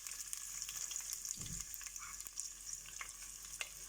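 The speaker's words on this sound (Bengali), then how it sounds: "তেল গরম হয়ে গেছে পেঁয়াজ দিলাম" Onion goes into hot oil and fries with a steady faint hiss, a soft thud as it lands, then light crackling and scattered pops.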